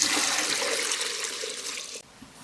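Water poured over sesame seeds in a vessel for washing, a continuous splashing rush that stops abruptly near the end, close and fairly loud with no talk.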